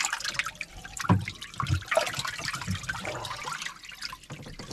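Water running from an opened tap at a fishing spot, a steady splashing and trickling flow with a few louder gushes, close by and continuous.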